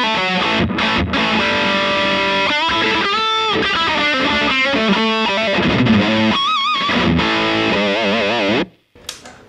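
A Gibson Les Paul Standard electric guitar played through distortion on its rear humbucker pickup, sounding loud and sustained with chords and single-note lines, played alone until it cuts off abruptly near the end.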